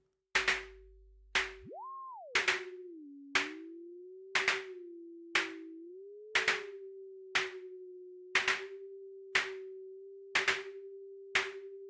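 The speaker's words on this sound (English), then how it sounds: "So these claps are just using white noise" Synthesized drum claps built from white noise in the ANALOGyDR iOS drum app repeat at a steady pulse, about eleven crisp hits, with a sustained synth tone underneath that bends upward briefly near the start.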